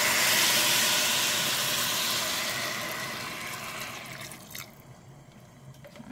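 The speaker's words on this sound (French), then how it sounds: "Après 3 minutes, je rajoute l'eau à l'intérieur." Water is poured into a hot pan of cabbage being cooked for beef yassa, producing a loud rushing hiss of steam and sizzle that gradually subsides into a quieter bubbling simmer.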